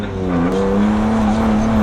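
Straight-six car sliding with a sustained tire squeal over a loud, steady engine drone, close and continuous throughout.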